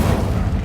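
A brief, heavy burst of the Incendio fire spell in Hogwarts Legacy, a dense, loud low rumble of flame lasting under a second.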